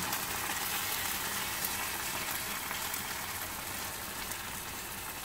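Broth poured into simmering solyanka in a pan, producing a steady, faint hissing sizzle and bubbling that stays even and continuous throughout.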